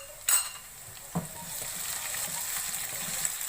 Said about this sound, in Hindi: 1 मिनट तक हम फ्राई करेंगे।